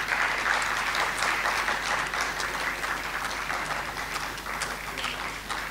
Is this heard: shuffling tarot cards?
no